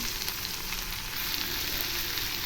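Onions sautéing in a pan for a Tamil onion sambal, a dense, even sizzle and crackle filling the whole moment, close and continuous with no talking.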